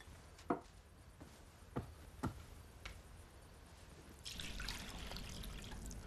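Water is poured into a basin, a soft splashing stream that starts a few seconds in and continues steadily after several faint knocks and taps.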